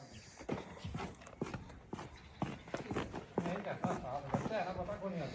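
Horse hooves clip-clopping on a farm as the horse walks, a series of irregular close knocks mixed in with people talking.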